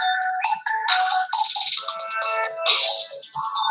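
A phone rings with an incoming call, a bright melodic ringtone playing continuously and fairly loud indoors at home, with no voices over it.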